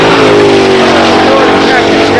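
Porsche twin-turbo race car engine in bright livery at the Goodwood Festival of Speed, a loud, steady harmonic roar that holds near and dense, with crowd noise and voices mixed in around it.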